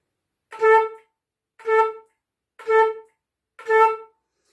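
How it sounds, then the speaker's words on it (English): Flute key clicks combined with played tone: four separate short tones at a steady, even pace, each starting with a percussive click and ending in silence. "at letter E we have to play key clicks, but also with sound together"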